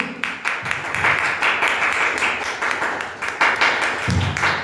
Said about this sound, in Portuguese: Dá salva de palmas para Jesus